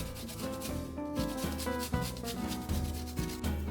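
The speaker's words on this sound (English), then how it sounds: "Peel the ginger, grate it" Fresh peeled ginger is rubbed against a grater in quick repeated scraping strokes, close and clear, with no talking.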